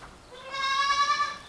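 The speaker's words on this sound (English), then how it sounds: "She is one of our lovely pedigree Angora goats" A pedigree Angora goat bleats once, a single clear drawn-out cry rising then wavering, close and alone.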